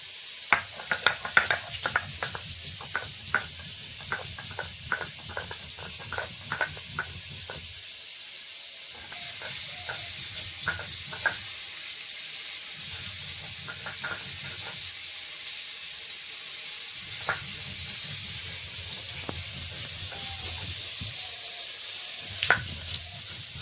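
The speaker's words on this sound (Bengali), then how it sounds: "কপিটা ভাজা হচ্ছে" Cauliflower fries in a pan with a low, steady sizzle and hiss, broken by regular scraping and clinking as the pieces are stirred, close by, with no talking.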